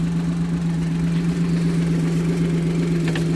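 A Daewoo Tico car's engine idles with the hood open, a close, steady low hum with a constant even drone throughout and no talk over it.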